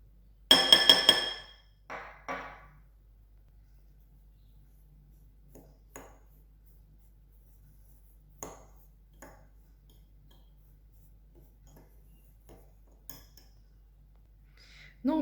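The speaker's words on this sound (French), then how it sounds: "je vais mélanger mon sucre" Sugar and cinnamon stirred in a glass bowl with a utensil, a cluster of bright clinks and scrapes at the start, then sparse faint taps against the glass amid near silence.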